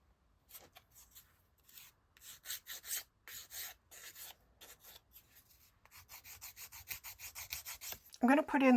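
Dry, rasping strokes of sandpaper rubbing small wooden pieces for a 1:12 scale fold-up TV tray, coming in quick rhythmic bursts up close, with a brief sharper scrape at the end.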